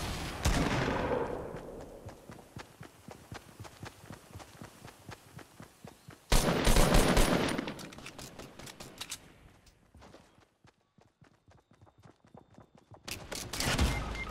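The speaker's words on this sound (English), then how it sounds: "I'm shooting at him." Fortnite gunfire in a firefight, with sharp rapid bursts of shots and some heavier blasts, loud at first, easing to scattered shots and a quiet gap, then picking up again.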